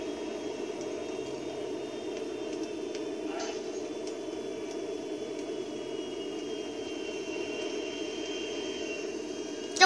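A jumbo jet's engines roar in a video game, a steady, even broadband hiss and whine that holds for about ten seconds, ending with a brief bump.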